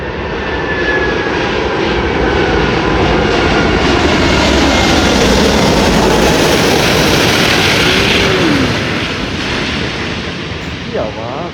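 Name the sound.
Singapore Airlines Airbus A380-800 jet engines at Delhi Airport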